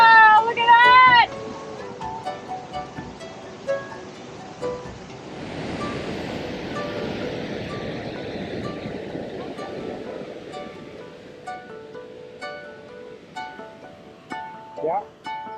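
High, rain-swollen river water rushing in Yoho National Park, a broad steady roar that swells midway and holds under occasional voices, with some wind buffeting the microphone.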